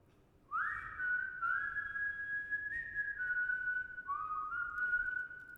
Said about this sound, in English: Then this whistle comes in.